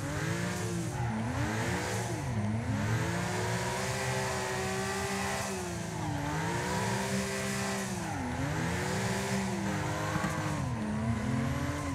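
An R33 Skyline drifts in the video game Wreckfest on PS5, its engine droning and revving continuously, with the pitch swinging up and down as the throttle works through slides and tires hiss underneath.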